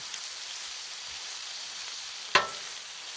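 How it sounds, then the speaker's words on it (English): Bacon crisping on a Blackstone flat-top griddle gives a steady, soft hiss of frying fat, broken once by a brief, sharper sizzle or pop partway through. "So, we got our bacon going."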